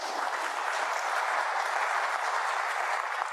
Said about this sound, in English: Give her, please, a welcoming round of applause